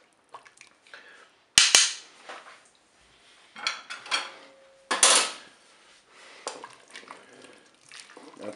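Pork roast with tomato paste being stirred in a Cookeo pot, several scraping, clattering utensil strokes against the metal bowl in irregular bursts separated by near-silent pauses, close by.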